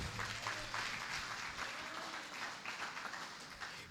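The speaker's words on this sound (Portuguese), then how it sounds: "Aplaude esse Deus Todo-Poderoso." Church congregation applauding during a home worship service, a steady wash of clapping spread across the whole stretch, moderately distant, with a few faint voices mixed in.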